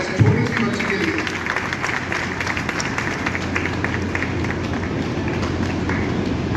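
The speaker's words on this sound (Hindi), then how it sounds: "जोरदार तालियां इस छोटी सी बच्ची के लिए।" Loud, dense applause from a crowd honors young Simran Santwani at a Sindhi community award ceremony. The steady, rushing clapping fills the hall without a break and mixes with voices.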